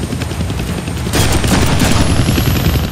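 Rapid gunfire from guns in the Deadpool video game, a dense sustained burst of shots that grows louder partway through and continues alone with no talk.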